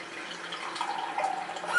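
Water poured into a cooking pot holding potatoes, a steady splashing and trickling stream that runs close and continuous for under two seconds with no talk.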